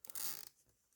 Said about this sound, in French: Un petit collier en plastique.